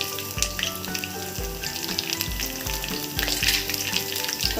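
Two green chillies sizzle and fry in hot oil for coriander rice, with a steady loud crackle, occasional stirring scrapes and no talking.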